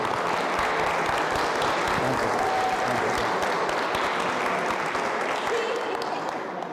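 Audience applause for Paloma and her team at a community news event, continuous loud clapping from a sizable crowd, steady throughout with no speech.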